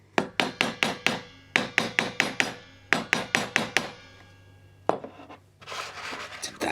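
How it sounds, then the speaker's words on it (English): Repeated sharp hammer strikes seat the frets of a badly set-up guitar, falling in quick bursts of five or so taps with short pauses, close and crisp, followed by a lone tap and some rustling handling. "hammering it down."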